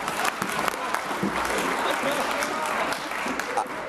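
Applause in the Scottish Parliament chamber during First Minister's Questions, a steady clapping wash from many hands with scattered voices mixed in throughout.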